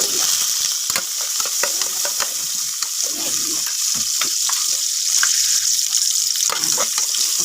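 Onions sizzle and fry steadily in hot cooking oil, ahead of tomatoes in a mussel dish, with a continuous bright crackle and occasional sharper pops and stirring scrapes throughout.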